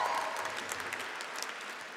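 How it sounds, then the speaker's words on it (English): Audience applause at a youth speech competition, a dense, even wash of many hands clapping at moderate distance, holding steady throughout. "Big round of applause for our last one."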